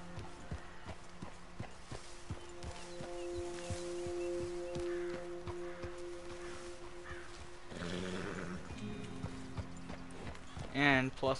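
Horse hooves clip-clopping at a steady walk in a video game, soft rhythmic knocks beneath a voice talking over them.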